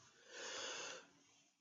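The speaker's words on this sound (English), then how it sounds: "Sorry about the yawn." A single drawn-out yawn with breathy exhale, swelling in the middle and fading over about a second, close to the mic and alone.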